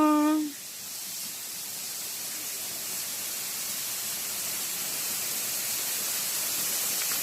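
Waterfall as a broad, steady rushing hiss that stays even and moderately loud from start to end, heard up close, after a brief whistle-like tone at the very beginning.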